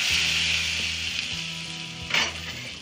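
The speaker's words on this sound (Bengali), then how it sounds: "তেলটা আমি ঢেলে দিলাম" Hot oil poured over mashed elephant foot yam, with blackened dried red chillies, sets off a loud, steady sizzle that fades a little and then crackles up in a brief burst near the end.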